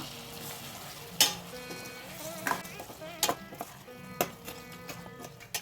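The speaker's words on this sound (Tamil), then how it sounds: "மசாலா நல்லா வெந்ததுக்கு அப்புறமா நம்ம கழுவி வச்சுருக்க நண்டை இதோட சேர்த்து நல்லா கலந்து விட்டுறலாம்" Crab being stirred into cooked masala in a pan, a soft sizzle with a few sharp scraping and clinking stirs of a utensil, close by.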